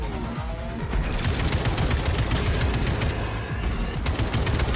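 Dense, continuous gunfire and rapid weapon bursts from the Atomic Heart video game, a steady barrage with booming low-end impacts running the whole stretch, loud and close with no pauses.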